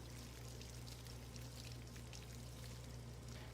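In the horror game Spirit Hunter: Death Mark II, a toilet runs with a constant pouring, splashing flow. The sound stays even and unbroken throughout, moderately loud and close, like rain or a small stream with no pauses.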